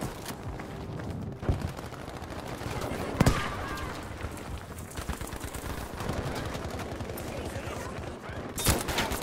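Gunfire in the shooter Battlefield V, with scattered shots and bursts over steady battle noise, including a sharp louder report early on and another burst near the end.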